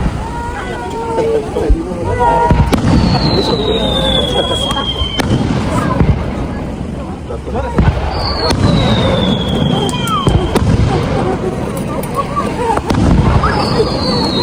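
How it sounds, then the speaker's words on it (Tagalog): Fireworks whistle upward and burst in loud, crackling bangs, one after another, while a crowd chatters and cheers nearby. "So panoorin niyo muna itong simpleng fireworks ng Barangay New Kawa."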